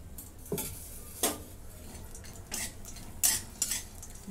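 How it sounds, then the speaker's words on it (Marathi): Grated coconut fries in a little oil in a pan, giving a soft background sizzle. It is broken by about five sharp utensil scrapes and clinks as it is stirred, close and fairly quiet. "खोबरं चांगलं लालसर रंगावरती तळून घेते."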